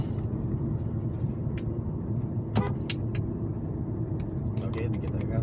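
A BMW E46 holds speed on cruise control with a steady mid-pitched engine drone and road rumble from inside the cabin, with a few faint clicks and people talking over it.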